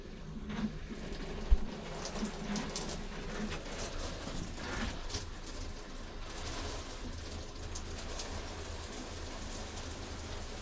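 Pink RV antifreeze flows and siphons through a camper's water lines, a faint, steady gurgling rush with small drips and clicks and no voices.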